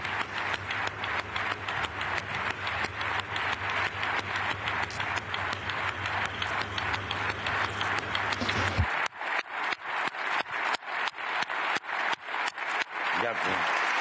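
A large audience in the European Parliament applauds in a loud, rhythmic, unison clapping pattern for over ten seconds; the steady hum of the chamber drops away partway through while the synchronized clapping continues.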